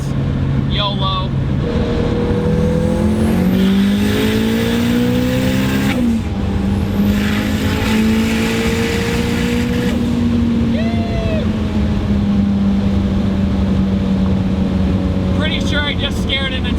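Heavily modified 707-horsepower Toyota MR2 pulling hard, its engine note rising through several gears with brief shift breaks, loud and close from inside the cabin, with a voice speaking over parts of it.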